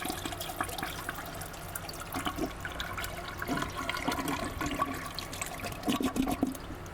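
A toilet flush sound effect plays as a stream donation alert, a long gurgling rush of water with swirling splashes and drain noise lasting several seconds, steady and fairly loud with no talking.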